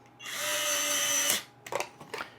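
A power drill drives a screw to mount a Sunlu AMS heater/dryer on a Bambu 3D printer, one steady whine for about a second, then a few close clicks and knocks.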